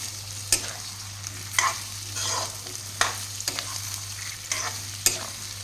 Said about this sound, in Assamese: এইখিনি ভালদৰে লৰাই ল'ম।